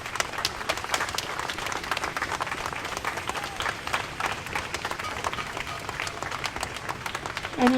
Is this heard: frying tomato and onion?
no